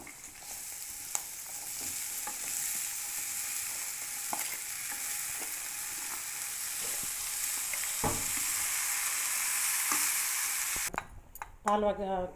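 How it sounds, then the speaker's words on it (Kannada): Boiled horse gram and toor dal hit a hot tempering and sizzle loudly in a continuous close hiss, with occasional stirring clicks and a brief clatter of utensils at the very end. "ಕಾಳು ಒಗ್ಗರಣೆ ಹಾಕಾಯಿತು."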